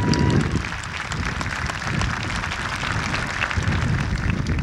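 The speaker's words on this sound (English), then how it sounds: "I'd like to give them a big round of applause." A graduation ceremony audience claps steadily for several seconds, a dense, even patter of many hands with no voices standing out.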